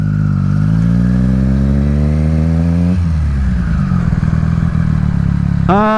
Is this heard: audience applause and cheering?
no